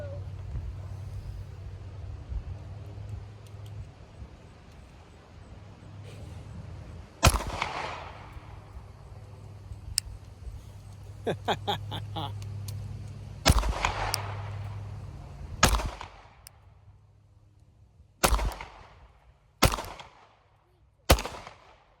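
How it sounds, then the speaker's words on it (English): A Glock 43 pistol fired outdoors with a +2 magazine kit, giving sharp single gunshots that are loud and echoing, spaced several seconds apart, over a low idling engine rumble and background murmur. "we're out there shooting"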